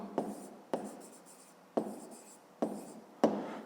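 A pen writes in a notebook, up close and quiet, making five distinct scratchy strokes separated by short pauses.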